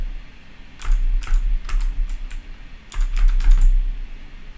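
Quick clusters of key presses on a computer keyboard as test credit card details are entered, crisp close clicks in two bursts over a low steady room hum.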